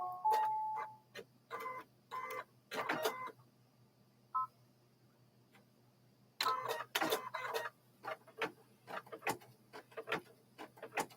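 A home sewing machine runs in several short, separate stitching bursts with clicky mechanical ticks between them, close and moderately loud against a quiet room.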